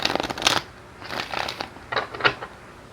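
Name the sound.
tarot cards being shuffled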